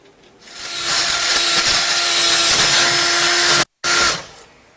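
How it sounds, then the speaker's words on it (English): A RIDGID K-1 combination drain auger's drill whirs steadily at a constant pitch for several seconds, cuts out briefly, then starts again before winding down while retracting the cable from a cleared drain. "begin to operate the drill and retract the cable back up into the tube"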